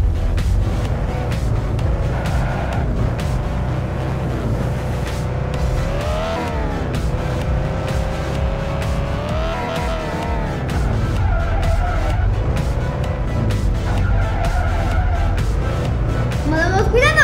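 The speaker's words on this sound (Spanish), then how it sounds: "Este coche es muy potente y a veces nos cuesta controlarlo." A powerful GT race car in an Android racing game revs hard and skids, with a steady engine roar, rising and falling pitch sweeps and tire squeals running throughout, loud and continuous.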